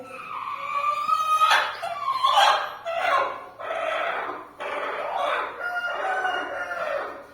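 Hens clucking around a backyard coop where eggs are being gathered, with a rooster crowing in bursts of repeated calls; close and fairly loud, with no talk.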